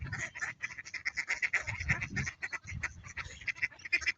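Several ducks quack in a noisy, continuous chorus of overlapping calls, close by and fairly loud.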